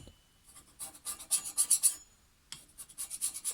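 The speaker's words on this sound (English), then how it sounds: "I'll use a chisel, sharp chisel, just work along" Sharp chisel scraping sap and resin off STIHL HS56 hedge trimmer blades, close rasping strokes in two bursts with a short pause between, no talking.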